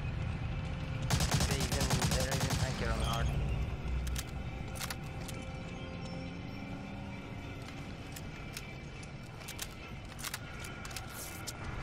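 Gunfire in the video game Medal of Honor: Allied Assault starts with a dense burst of rapid shots. Scattered single shots and clicks follow at lower volume under ongoing game ambience, with a voice speaking at times.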